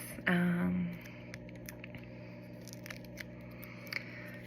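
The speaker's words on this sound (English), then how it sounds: "split it up into smaller pieces, cut it down to fit multiple nails" Scissors snip through a dry nail polish strip, one close, distinct cut followed by quieter handling sounds.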